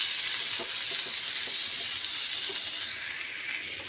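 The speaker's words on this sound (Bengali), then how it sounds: "তো মশলাগুলো ভাজা হচ্ছে," Spices with a little chili powder sizzle in a pan for a soup, a steady, bright frying hiss with a few faint stirring ticks throughout.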